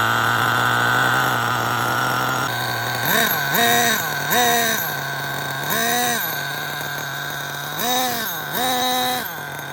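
A small engine on a custom RC trophy truck, still breaking in, hums steadily, then revs up and down in repeated whining bursts, close and fairly loud with no talking.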